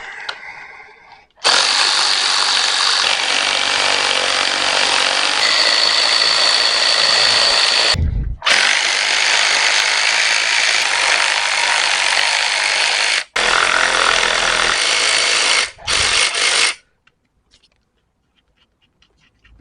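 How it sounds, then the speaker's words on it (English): Battery ratchet undoing studs on a Series Land Rover, a loud, high buzzing whir running in several long bursts, each stopping abruptly, followed by a short final burst before quiet. "Battery ratchet."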